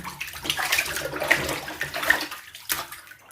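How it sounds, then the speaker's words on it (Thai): Raw pork rinsed under a running tap in a home kitchen, a continuous close splashing flow of water with slight shifts as the meat is handled, no voices. "เรามาล้างน้ำก่อนนะคะ เพื่อจะเอาสิ่งที่สกปรกนะคะ ออกไปให้หมดนะคะ"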